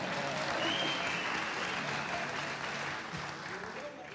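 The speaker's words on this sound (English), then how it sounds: "I'm waiting for you guys to applaud." An audience at a talk on fake news and media literacy applauds, steady close clapping filling the whole stretch with no talk over it.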